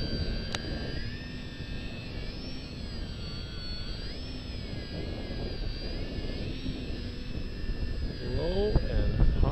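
A Parkzone VisionAire RC airplane flying low on a windy day gives a steady whining electric motor drone with heavy wind buffeting across the microphone, continuous and fairly close.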